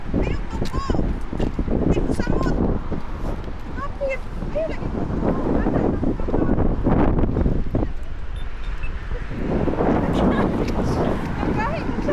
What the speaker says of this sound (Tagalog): Kaya grabe yung hangin dito, tapos malamig.